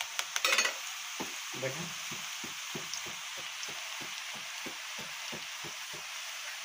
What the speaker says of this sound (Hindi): अभी जो है हमारा फ्राई हो चुका है, बूंदी बन चुका है